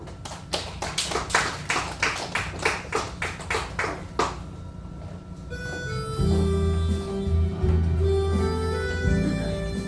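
A church congregation claps at a worship service, a steady run of sharp, even hand claps at first, then fading as organ or keyboard tones take over.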